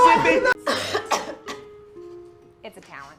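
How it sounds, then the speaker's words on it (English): A woman gives several harsh, close coughs in quick succession with a throaty rasp, mixed with speech-like sounds, then falls quiet before a short final vocal burst. "So she's coughing because of sickness."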